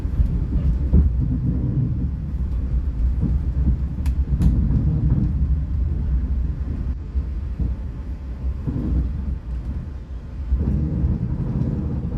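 Mataram economy-class train running near Yogyakarta station, a steady close low rumble of wheels and carriage with faint clunks throughout, heard from inside without talk.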